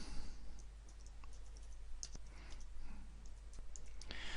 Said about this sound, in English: Now let me start to type in that title.